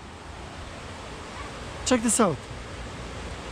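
Water from a river pours over a small dam in a village, giving a constant even rushing noise throughout, with a brief spoken phrase partway through.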